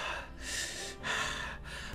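A voice imitates an anime breathing technique from Demon Slayer (Kimetsu no Yaiba): two forceful, breathy inhale-exhale rushes, close and loud, separated by a short pause.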